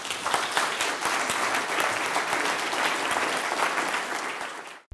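An audience applauds after a talk on the cosmos, a dense, sustained wash of many hands clapping evenly throughout, fading out abruptly at the end.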